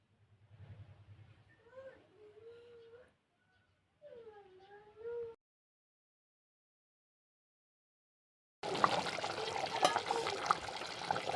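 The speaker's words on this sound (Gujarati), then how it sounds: "અને હવે આપણે નાખી દઈએ પાણી એમાં." Water is poured into a pan of stuffed brinjal curry, a Kathiyawadi dish, giving a close, dense splashing rush near the end of the clip after a stretch of speech and silence.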